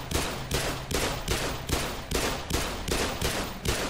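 Shooting in the video game Black Mesa comes as a regular series of loud, evenly spaced gunshot bursts, about two per second, with no voices over them.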